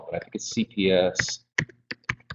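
An audience types on computer keyboards during a conference talk on technology and education, with quick clicks scattered under and between a speaker's voice.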